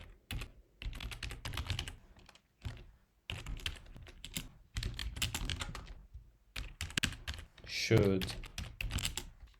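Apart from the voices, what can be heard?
typing code on a computer keyboard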